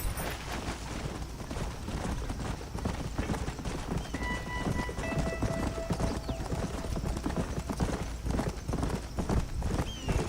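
Horse hooves clip-clop steadily in Red Dead Redemption, a rhythmic run of close hoofbeats over a busy in-game background with a brief whinny.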